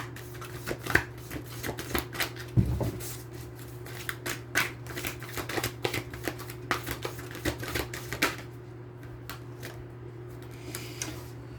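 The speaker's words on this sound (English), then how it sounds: "I'll pull the rest of the cards out." Tarot cards being pulled from a deck and laid out on a surface, a steady run of soft, close flicks, slaps and shuffling clicks lasting several seconds with no talking.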